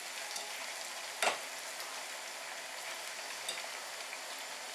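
Thin-sliced plantain frying in very hot oil gives a steady, moderately quiet crackling sizzle with one sharp louder pop early on and a fainter one later, no voices.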